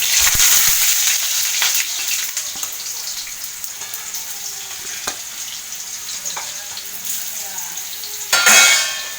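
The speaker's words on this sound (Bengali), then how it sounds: "এখন আমি এই যে সেদ্ধ করা পেঁপে একটু ভেজে নেব।" Boiled papaya pieces fry in hot oil in a wok, giving a steady bright sizzle with light stirring scrapes throughout and a louder burst of spatter near the end.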